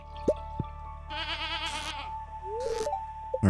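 A goat in the farming video game Stardew Valley bleats in a wavering cry, mixed with light dripping and plinking game sounds over a low steady background tone.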